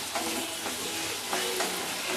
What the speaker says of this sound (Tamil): நல்லா கலந்து விடுங்க